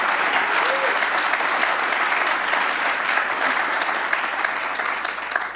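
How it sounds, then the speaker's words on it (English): Sustained audience applause at Lens Fest, a dense, even wall of clapping that holds steady throughout and tapers slightly at the end. "Can we get a round of applause, everyone?"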